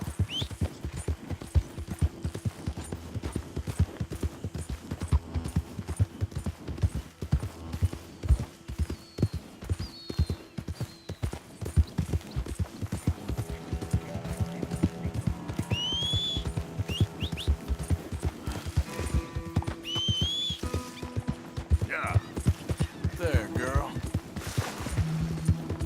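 Steady clip-clop of horse hooves trotting along a road in Red Dead Redemption 2, with someone talking over it and occasional bird whistles in the background.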